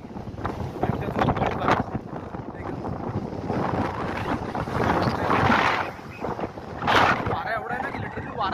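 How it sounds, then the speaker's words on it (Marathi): Strong wind buffets the microphone during a hillside climb, a loud continuous roar with gusts surging and easing, mixed with faint voices and movement noise throughout. "वारा एवढा आहे ना की लिटरली वारा पाठीला उठतोय आपल्याला, एवढा वारा येते."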